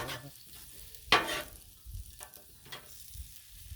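Shrimp fried rice sizzling on a Blackstone griddle set just above low, with soft continuous frying and a few sharp scraping and stirring strokes.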